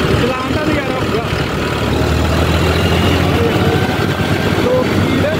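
A John Deere tractor, an American 4x4, idles with a steady low diesel rumble that holds evenly throughout, while someone talks over it.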